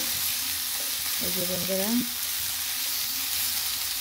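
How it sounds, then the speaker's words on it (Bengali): Potatoes with green chilies stir-frying in a pan for a bottle gourd leaf curry, giving a steady broad sizzle throughout with a brief stirring scrape midway, and someone speaking briefly over it. "কাঁচা মরিচ দিয়ে সুন্দরভাবে কষিয়ে নিচ্ছি আলুগুলো।"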